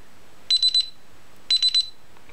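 A shrill electronic alarm sounds in two bursts of three rapid beeps each, about a second apart, clear and close against a quiet background.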